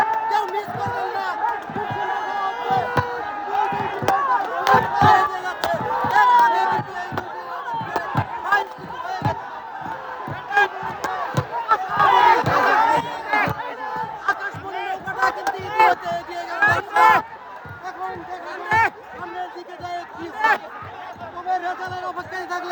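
A crowd of spectators at a boat race in Sajimara, Bakshiganj, shouting and cheering in uneven surges under a commentator's steady talk, with chants and rhythmic rowing cries throughout.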